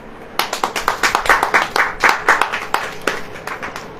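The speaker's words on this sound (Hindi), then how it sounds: "ताली बजाइए" A church congregation claps in a quick, uneven burst of many hands, with loud close slaps that build for a few seconds and then thin out toward the end.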